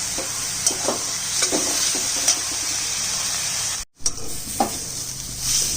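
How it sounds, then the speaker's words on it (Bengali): Boiled banana flower fries in a pan with salt until reddish-brown, giving a loud, continuous sizzle broken by scraping stirs of a spatula and one brief dropout. "ভালো করে লাল করে ভেজে নিচ্ছি।"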